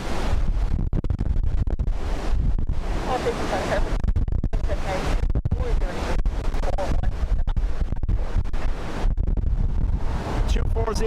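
Storm Bram's strong winds gust hard at Dublin Airport, roaring and buffeting the microphone in loud, continuous surges with brief lulls between blasts.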